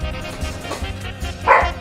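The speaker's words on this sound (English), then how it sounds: "Dog's barking at our neighbor." A pet dog indoors barks at the neighbours' dogs: several short, fairly loud woofs in quick succession, ending on a sharper, higher bark.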